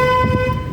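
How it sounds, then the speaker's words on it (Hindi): A car horn sounds during a driving lesson as the car nears a blind turn in a narrow lane, a steady sustained honk with strong harmonic tones running the full length over low engine rumble. "हॉर्न बजाओ"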